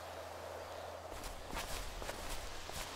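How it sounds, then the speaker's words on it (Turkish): Footsteps in GTA 5, a run of soft, quick steps starting about a second in over steady game ambience. "Abi ayak sesi geldi daha demin"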